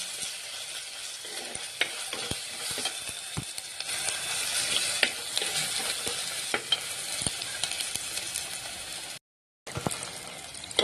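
Crushed ginger and garlic sizzle in oil with a steady crackling hiss while a utensil occasionally scrapes and taps the pan, no voices present.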